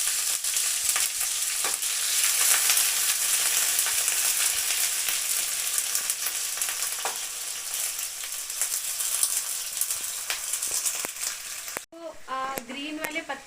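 Green onions sizzling and being stirred in a pan for vegetable soup, loud continuous close frying hiss with scraping stirs for most of the clip, then it cuts off and someone speaks briefly at the end.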